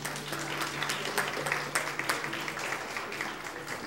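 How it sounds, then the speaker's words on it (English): An audience at a lunch-and-learn event applauds a sponsor, a soft, even wash of clapping from many people heard from a distance. "Let's give them another round of applause."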